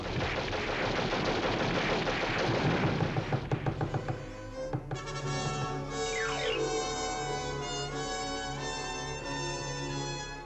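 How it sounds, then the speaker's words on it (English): Rapid bursts of cartoon machine gun fire from a 1955 animated short, loud dense rattling that breaks into a few separate shots before giving way to a whistling, descending tone over a lingering musical backdrop. "Then they thought up a new kind of gun. A gun that could kill men faster than ever before."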